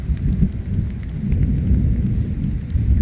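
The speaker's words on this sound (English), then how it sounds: "Getting some good rumbles of thunder out of this one." Low thunder rumbles continuously beneath a steady wash of heavy rain, loud and close, with no voices.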